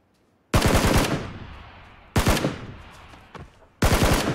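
Video game gunfire comes in three loud, sharp automatic bursts, each fading into a short echoing tail before the next one starts.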